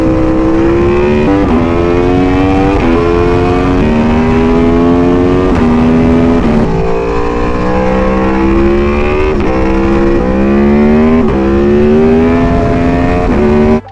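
Aprilia Tuono 1000cc naked motorcycle engine running loud and close, its note rising and falling in repeated rev swells with stepped pitch changes throughout, no talking.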